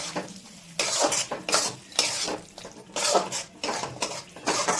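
Chicken pickle being stirred and mixed in a pan, with repeated loud scraping bursts of a utensil against the metal and a light sizzle beneath, coming in steady rhythmic strokes with brief pauses between.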